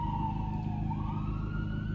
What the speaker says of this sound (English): sorry about the ambulance here